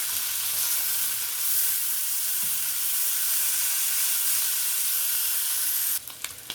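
Hamburger meat sizzles loudly and steadily in a skillet as it is broken up, a constant close frying hiss, with a few scraping stirs near the end.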